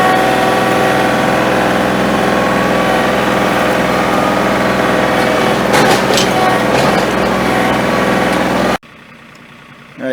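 A John Deere 3025e two-wheel-drive tractor engine runs steadily and loud at close range while moving logs, with a brief clunk midway before the sound drops out abruptly near the end.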